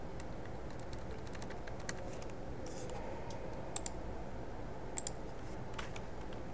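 Close, steady typing of C code on a computer keyboard, with irregular clicking keystrokes and a few sharper taps over low background hum, no voice.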